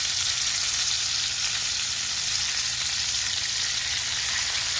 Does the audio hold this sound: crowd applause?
no